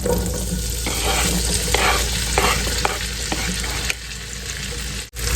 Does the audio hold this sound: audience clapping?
no